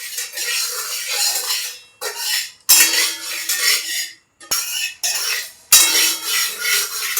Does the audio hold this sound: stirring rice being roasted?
yes